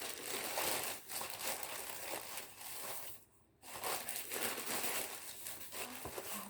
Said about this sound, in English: So let's get unwrapping.